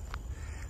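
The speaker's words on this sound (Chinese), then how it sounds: "听听鸟儿的叫声" Two faint, brief crow-like caws ring out in a quiet forest on Coney Island, Singapore, over a low, even background hush.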